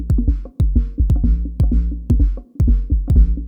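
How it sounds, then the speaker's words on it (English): Electronic kick drum triggered by an unsynced LFO, punchy booming thumps with tonal ringing tails, firing in an irregular, drifting rhythm of about three per second, loud and alone. "it sounds like this kick drum is not synced to anything"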